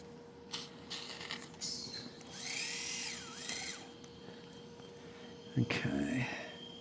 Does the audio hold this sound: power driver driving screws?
yes